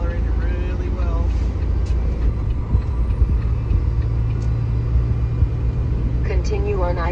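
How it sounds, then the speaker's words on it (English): Semi truck cab on the highway while accelerating, a steady loud low engine rumble and road drone throughout, with someone talking at the start and end. "It's accelerating really well."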